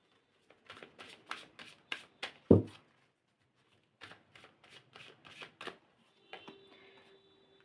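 Tarot cards shuffled by hand in a quiet room, two bursts of quick crisp riffling flicks with a louder thump between them, then a faint soft rustle at the end.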